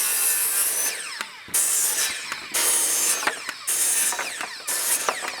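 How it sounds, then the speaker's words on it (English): A circular saw rips through deck lumber in repeated loud cuts, each a bright whining rasp lasting about a second. Short gaps separate the cuts, and the blade spins down between passes. "I'm just gonna take a circular saw, skill saw, a saw with a spinning disc on it."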